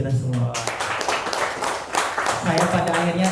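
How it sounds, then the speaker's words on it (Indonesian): Audience applause breaking out at a discussion event in Tanah Bumbu, a short burst of clapping mixed with someone talking over it, fairly close and lively. "Boleh tepuk tangan buat kita semua."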